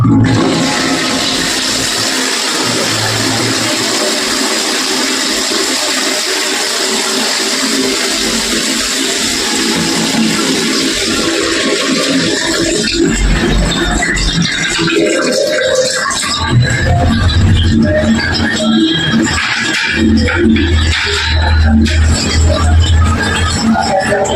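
An Indian-style toilet flushes loudly up close from a newly installed flush tank, a rushing gush of water followed by the tank refilling with gurgling and rattling.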